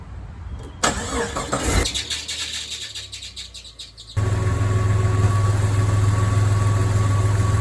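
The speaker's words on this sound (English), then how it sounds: "starting the car to see if the head gasket's bad" A Jeep Cherokee XJ engine cranks and catches, then settles into a loud, steady idle; birds chirp faintly in the background before it starts.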